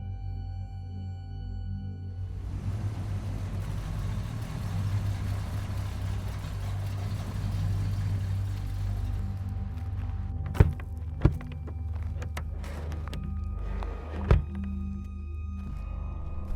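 A car engine idles and rumbles steadily near a secluded old cottage among big trees, then a few sharp thunks like a door opening and shutting, with no voices.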